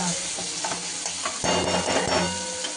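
Dill greens tumble into a hot pan of soaked lentils, setting off a quiet sizzle as a spoon stirs and scrapes through the mixture in a few uneven strokes.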